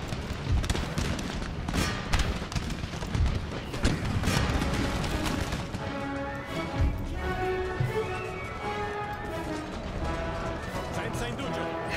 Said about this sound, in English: Cannon's going.